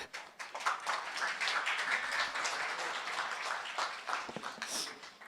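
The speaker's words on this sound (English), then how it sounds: "Another warm welcome or round of applause for Derek." Applause from the audience at a reentry conference artist panel, a continuous moderate patter of hands clapping, fairly faint and distant, without speech.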